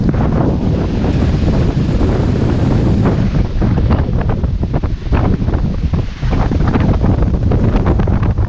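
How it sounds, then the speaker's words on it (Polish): Strong wind buffets an outdoor microphone with loud, continuous low rumble and gusty roar, swelling and dipping briefly near the middle, with no voices. "Siła natury. Zobaczcie, jak wieje."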